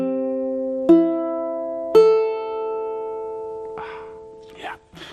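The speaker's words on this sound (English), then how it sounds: "Your ukulele should sound like this." An in-tune ukulele rings out with two plucked strums, each decaying slowly into sustained chiming tones, followed by a few brief spoken words.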